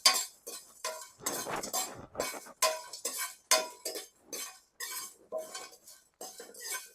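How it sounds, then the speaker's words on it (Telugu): Whole spices (coriander seeds, cinnamon, cardamom and other dry masala) are stirred dry in a pan with a metal spoon, giving a run of crisp, rhythmic scraping rattles and clinks, close and clear, with short pauses between strokes. "ధనియాలు, ఒక చెక్క, 4 యాలక్కాయలు, పలావ్ దినుసు, మరాఠీ మొగ్గ వేసుకొని వేపుకుందాం"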